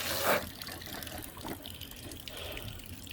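Water running steadily from a garden gutter, a continuous trickling and splashing flow with a brief louder gush at the start, heard alone outdoors.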